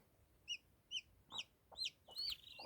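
A newly hatched chicken chick peeps in a series of about five short, high, rising chirps, evenly spaced and quite faint, with no speech.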